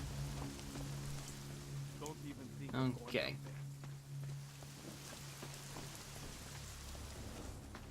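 Rain falls steadily in the video game Deus Ex: Mankind Divided, a soft patter under a low tonal hum, while someone briefly speaks over it midway.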